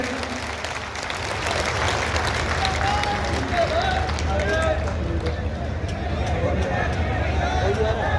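A large crowd of farmers at a political rally in Rajasthan gives a long, sustained round of dense applause, with crowd murmur and voices under the steady clapping.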